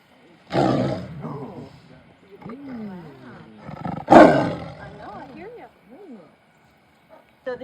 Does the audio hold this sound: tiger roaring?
yes